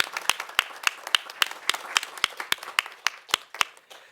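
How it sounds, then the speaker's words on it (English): Sparse applause from a small audience at a talk, with individual sharp claps standing out in an uneven, thin rhythm, heard close and moderately loud. "join me in a round of applause to thank everyone who brought this together"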